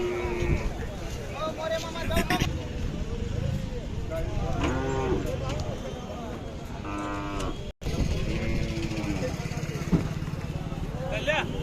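Khillar cattle at a busy livestock market selling cows, bullocks, buffalo, goats and sheep, lowing in several drawn-out moos spread through the clip, over constant crowd chatter and market bustle.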